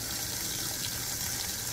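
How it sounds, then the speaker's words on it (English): Tap water runs steadily into a kitchen sink while boiled noodles are strained, a close, even hiss and splash without pause. "You got your strainer over here running water in your sink"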